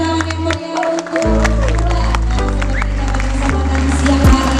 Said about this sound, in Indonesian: Sekali lagi boleh tepuk tangan yang meriah untuk